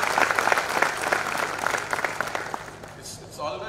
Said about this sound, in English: Big round of applause to all of you.